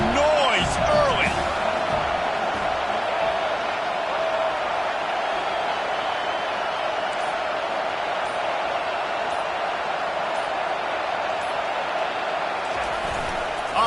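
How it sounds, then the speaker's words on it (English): Stadium crowd at a college football game between BYU and Utah roars with a broad, sustained wash of cheering noise, steady throughout, with a sharp slam early and an announcer talking over it. "This crowd bringing the energy and noise early."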